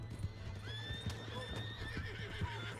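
Horse hooves clop in a steady rhythm while a horse whinnies with high, wavering neighs in the Red Dead Redemption 2 video game, fairly quiet and continuous with no speech.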